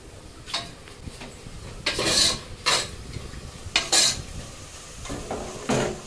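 Onions frying in a pan for egg biryani, with a spoon scraping and stirring in repeated bursts over a steady low sizzle, close and fairly loud, no talking.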